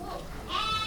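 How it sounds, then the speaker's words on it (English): A single short bleat from a farm flock of goats and sheep, close and clear, rising over faint background noise. "That's a flock of goats and sheep"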